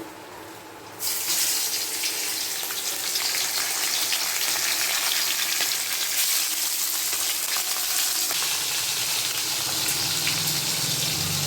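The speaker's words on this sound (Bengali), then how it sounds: "তেলটা গরম হয়ে গেছে। এখন ইলিশ মাছের মাথাটা দেবো।" A hilsa fish head drops into hot oil, setting off a loud, steady hiss and crackle of frying that starts abruptly after a brief quiet moment and continues unbroken.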